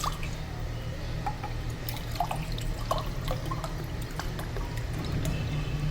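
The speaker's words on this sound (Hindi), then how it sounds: "2 गिलास पानी डाला है मैंने" Two glasses of water are poured into a cooking pan while making phalsa sharbat, a steady splashing, trickling flow with small drips, fairly close and continuous with no talk over it.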